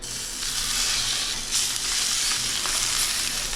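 Salmon sizzles and spits in olive oil in a hot pan, a steady, close crackling hiss with a few louder pops.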